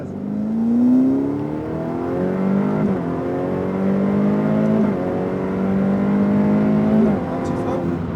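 A Ferrari F8 accelerates hard on a race circuit, its engine note climbing through the revs, with several brief dips at gear changes before it pulls up again, loud and close from inside the car.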